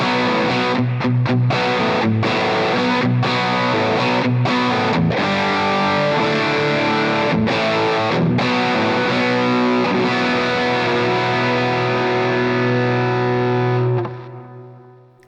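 An electric guitar played through a Boss DS-1W distortion pedal in custom mode, thick mid-heavy distorted tone: a run of quick choppy chords and rhythmic stabs, then sustained ringing chords that fade out at the end, loud and close.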